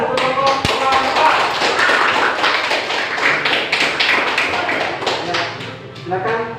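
A classroom applauding a student group, dense patter of many hands clapping continuously and fairly close, with voices mixed in among the claps.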